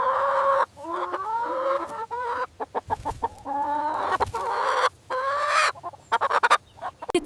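A chicken clucks in quick, choppy bursts, close and clear, with short pauses between runs of clucks and no talking.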